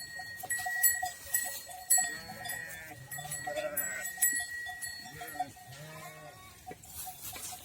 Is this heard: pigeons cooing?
no